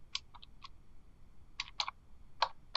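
Keystrokes on a computer keyboard while values are entered for plotting equations in 3D: a few quick isolated clicks, then short bursts of taps, faint and close against a quiet room hum.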